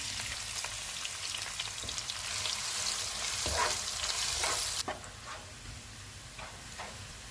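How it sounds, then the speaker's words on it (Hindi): Chopped onion fries toward golden in hot oil, sizzling steadily with a dense crackle, and a few stirring scrapes and clicks break through. "एक प्याज डालेंगे, इसको गोल्डन फ्राई करेंगे।"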